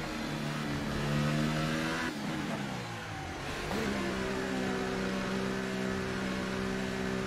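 A McLaren Formula 1 engine in F1 2018 at the Azerbaijan Grand Prix, a high-pitched whining drone that climbs through the revs, drops twice on downshifts, then rises steadily again, loud and continuous with no talking.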